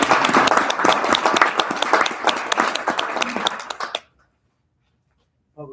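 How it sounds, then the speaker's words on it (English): A council meeting audience claps for firefighters, police and public service workers, dense applause lasting about four seconds before stopping abruptly into silence, followed by a brief voice at the end. "And we give everybody a round of applause for their service."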